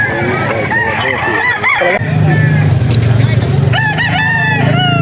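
Gamecock stag rooster at a fowl market in Bocaue, crowing loudly nearby in repeated calls, with other fowl honking and clucking and someone talking in the background.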